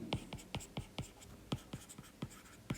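Pen strokes write an equation by hand at close range, about a dozen short, crisp scratches in an uneven rhythm across a few seconds, with soft talk in the background.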